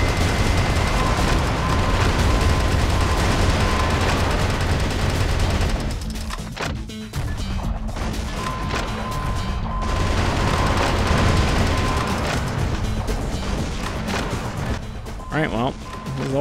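Heavy, continuous gunfire and explosions from the mech action game Metal Wolf Chaos XD, sustained rapid shooting with crashes that briefly thins mid-clip before resuming, with a player's voice talking over parts of it.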